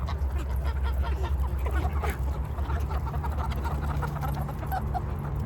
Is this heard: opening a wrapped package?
no